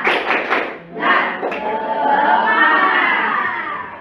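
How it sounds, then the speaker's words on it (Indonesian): A school class does the 'tepuk semangat' clapping chant: a quick run of rhythmic claps near the start, then a crowd of voices shouting in unison, loud and close. "Tepuk semangat."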